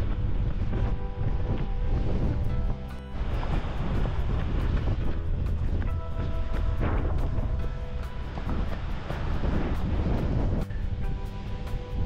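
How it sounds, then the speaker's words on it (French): Strong coastal wind in Brittany, facing the island of Groix, roars steadily against the microphone, with waves and surf churning underneath in a loud, continuous buffeting. "le vent est assez violent là sur la côte"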